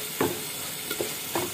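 Oil in a pan sizzling with seafood, including squid, while cooking seafood noodles: a steady close hiss of frying, broken by three brief louder crackles, with no voices.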